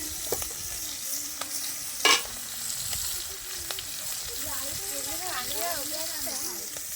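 Bahal fish frying on an earthen clay stove gives a steady, close sizzle, with a sharp clatter near the start and wavering, voice-like tones rising in the background toward the end.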